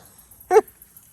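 A puppy gives a single brief whimpering yelp at close range, a short burst standing out against an otherwise quiet RV campsite at a lake state park.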